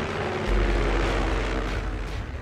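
Propeller airplane coming in to land in the 1985 adventure film about King Solomon's treasure, a steady droning engine roar with a deep low rumble, fairly loud and heard alone.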